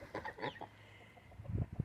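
Backyard chickens cluck in short, scattered bursts at close range, with a louder cluster of low clucks near the end.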